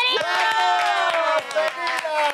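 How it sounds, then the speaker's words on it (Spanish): A podcast studio audience applauds and cheers for the actress Camila Sodi as she arrives, with sharp claps scattered under loud excited voices. "un fortísimo aplauso para Camila, Sodi"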